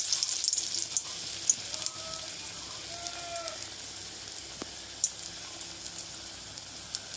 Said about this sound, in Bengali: আমি এক এক করে এবার পেঁয়াজগুলো ভাজবো।